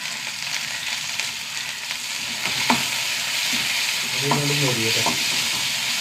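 Sliced small shallots and curry leaves with a pinch of fenugreek sautéing in hot oil, a loud, steady close sizzle punctuated by a few clinks of a spoon stirring against the pan.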